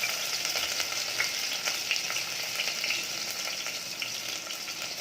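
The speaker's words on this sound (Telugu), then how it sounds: "నూనె వేడెక్కింది. దాంట్లో ఫస్ట్ వేయవలసిన ఐటెం కరివేపాకు, దంచిన వెల్లుల్లిపాయలు వేసుకోవాలి." Curry leaves and crushed garlic fry in hot oil, giving a loud, dense, continuous sizzle with small crackling pops, close and without any voices.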